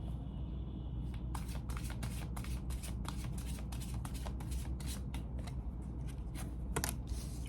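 Tarot cards being shuffled by hand during a Taurus love reading, a steady run of crisp riffling flicks and slaps repeating close up for several seconds over a faint room hum, with no talking.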